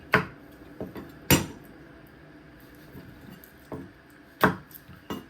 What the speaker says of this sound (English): So you want to trim your ends and peel all the skin off.